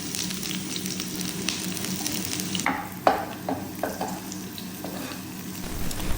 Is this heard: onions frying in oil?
yes